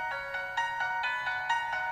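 A flute ringtone plays on a Micromax 1b phone, a repeating melodic phrase of sustained tones in short loud bursts, close and clear, with no talking.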